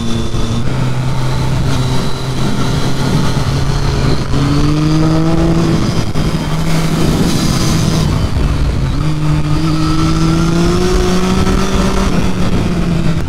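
A Triumph Street Triple 675 motorcycle ridden fast on hill roads, its engine whining loud and steady with rising and falling pitch as it shifts through gears under heavy wind rush.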